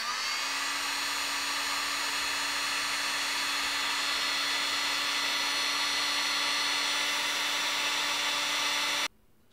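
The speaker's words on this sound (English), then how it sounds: "Let me now apply heat using my heat gun." A heat gun blows hot air onto a BMP280 barometric pressure and temperature sensor wired to an Arduino. A loud, steady whoosh with a constant motor hum runs close and alone for about nine seconds, then cuts off abruptly.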